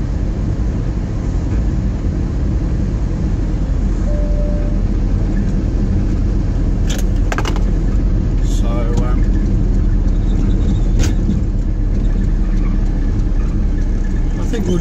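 A car drives through the town of Toronto, New South Wales, with a steady loud rumble of engine and road noise heard from inside the cabin and a few faint clicks, and no talk.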